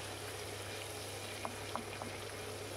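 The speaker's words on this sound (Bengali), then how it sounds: "খুব সুন্দর করে আমি ভেজে নিচ্ছি।" Frying and stirring in a pan while cooking mutton mince with young jackfruit, a soft continuous sizzle with a few faint stirring clicks, quiet and steady, without talk.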